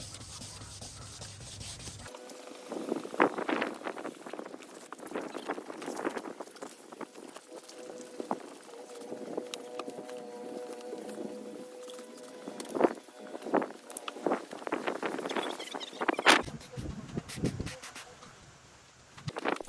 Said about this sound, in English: Start sanding horizontally.